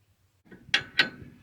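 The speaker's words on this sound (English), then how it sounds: "the first fight is to get these bolts undone, or nuts rather" On a rusty REO ramp truck chassis, a ratchet works at seized nuts, giving two sharp metallic clicks with softer clatter, close by after near silence.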